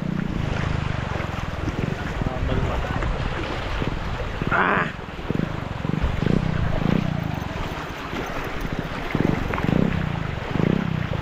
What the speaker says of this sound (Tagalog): Malakas pa rin ang agos dito kahit ano.